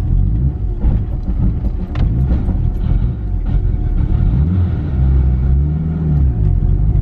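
2.3-litre Mitsubishi Evo engine rumbling and revving as the car pulls away unevenly after a stall, loud and close, with rising and falling revs and jerky surges, no talking.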